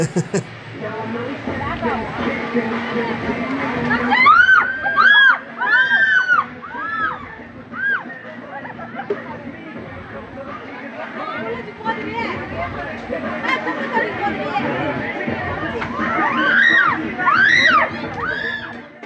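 A crowd of people scream and shriek loudly together, rising and falling in waves over a rumbling, splashing background.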